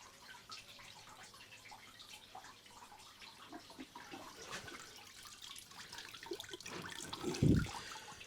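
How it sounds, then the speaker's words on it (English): Clean water gurgles and splashes steadily through the cooling system of a Yamaha YZF R1 motorcycle during a coolant flush, building to a louder rushing burst near the end. "just flush some water through the system now, just some clean water from the top"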